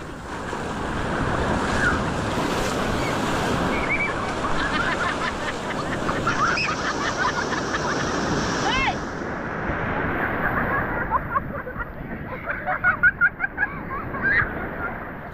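Rough sea waves during the habagat monsoon surge and crash continuously, with heavy wind buffeting the microphone, and voices can be heard near the end.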